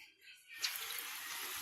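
Water from a bathroom sink, cleared of crochet hair, pours with a steady hissing rush close to the microphone, starting after a faint, quiet moment.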